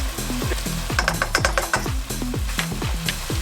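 Spices, including a pinch of mustard (haradali) seeds, being stirred into a no-oil peanut butter, spinach and tuna stew, with repeated scraping strokes and soft sizzling in a steady close rhythm.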